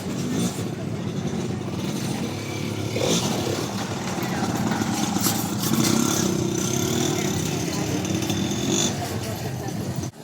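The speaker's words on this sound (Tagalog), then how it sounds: "At ito naman po si kuya na pumapasada ng tricycle." A motorized tricycle's engine idles at a busy crossing in Calamba where flower sellers work, a steady close rumble with occasional revving swells. Other traffic hums around it and voices murmur faintly in the background.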